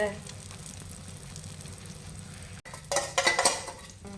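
An egg omelette sizzles and fries in a pan previously used for frying fish, with a steady low hiss, a brief dropout, then louder scraping and clattering of a utensil against the pan as someone talks nearby.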